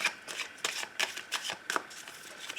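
Oracle cards shuffled by hand for a love-themed reading, a run of crisp riffling bursts in steady rhythm, close and fairly quiet, with no talk.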